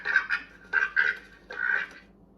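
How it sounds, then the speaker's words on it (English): A farm duck quacks in three short, nasal bursts, each made of a couple of quick quacks, close and clear with no other sounds. "It was a duck."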